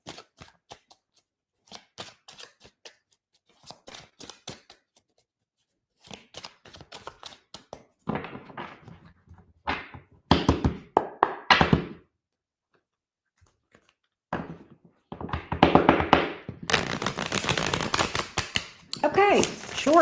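Tarot cards being shuffled by hand in quick, dry riffling bursts that come and go, building into a longer, denser stretch of shuffling near the end, close and clear with no talking.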